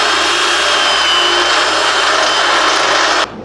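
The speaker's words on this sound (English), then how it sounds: "mark out these holes, drill them out." Power drill boring holes during a front suspension kit install on a slammed 1962 GMC truck, a loud, steady whine held for about three seconds before cutting off abruptly.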